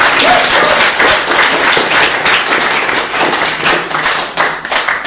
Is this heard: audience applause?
yes